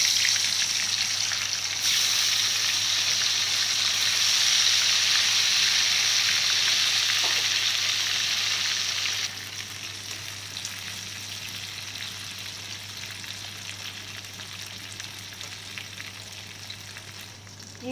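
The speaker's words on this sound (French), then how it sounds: "Là, je vais verser mes potatoes à cuire." Potatoes frying in hot oil for homemade fries, a dense steady crackling sizzle close by, loud at first then settling to a quieter constant bubble, with no voices.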